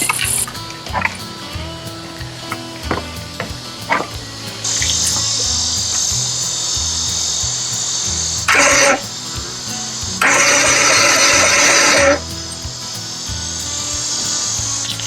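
A 1997 Johnson 115 OceanRunner outboard engine runs with a loud, steady droning hum, then rises in two harsher, louder revving bursts, with rushing, spraying water throughout.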